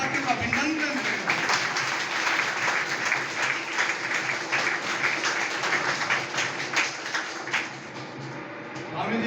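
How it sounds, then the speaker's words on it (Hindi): Audience applause at a national convention of Indian pensioners, with steady dense clapping filling the hall throughout and a slight dip near the end. "जोरदार ताली के साथ गुजरात के अपने साथियों का अभिनंदन करें"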